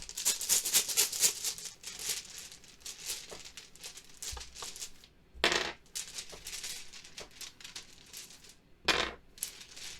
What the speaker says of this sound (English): we're going to basically pull some dice